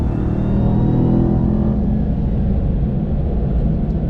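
A Ram TRX's 702-horsepower 6.2-liter supercharged V8 rumbles loud and close, a steady deep engine roar holding for a few seconds with no one speaking.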